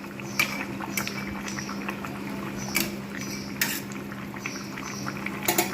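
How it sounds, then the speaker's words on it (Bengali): Rui fish curry with potatoes and bori simmers in a pot with a soft, continuous bubbling, punctuated by several sharp metallic clinks of utensils against the pot. "আর দেবে মাছ, জাস্ট অল্প করে ফুটিয়ে নেবো"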